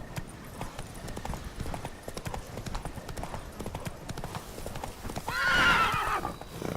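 Roach, the horse in The Witcher 3, gallops with steady quick hoofbeats close by, and a loud whinny near the end rises over faint background.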